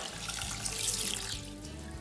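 Tap water runs steadily into a bowl or pot of basmati rice on a kitchen countertop, a continuous splashing pour lasting the whole stretch, close and fairly loud with no talk.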